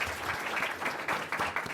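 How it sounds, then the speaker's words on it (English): A seated audience claps for the panelists after a discussion event, a dense wash of applause that swells and dips slightly across its length, heard alone without talk. "I hope you all give them a round of applause."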